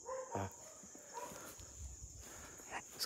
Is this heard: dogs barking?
yes